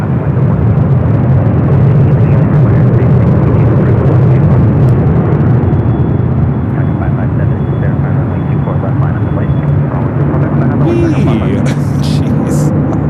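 An airliner takes off from runway 24 Left at LAX with a loud, sustained jet-engine roar that stays strong for the whole stretch, heard from close to the runway. A voice talks faintly underneath.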